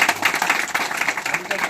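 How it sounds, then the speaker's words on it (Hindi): Audience applause welcoming a preacher at a church gathering in a Madhya Pradesh village, brief and fairly close, dense clapping with voices mixed in. "तालियों से स्वागत करें"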